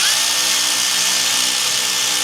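Power tool tightening the clamp bolts on a Duramax 6.6L intake boot, a loud, close and continuous high whir holding steady for the entire moment.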